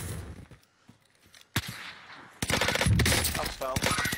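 Bursts of gunfire in a shooter video game, first some scattered, quieter shots and then loud, rapid automatic fire crackling in dense strings, with a player's voice talking over parts of it.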